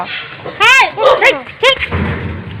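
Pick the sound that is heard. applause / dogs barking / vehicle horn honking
dogs barking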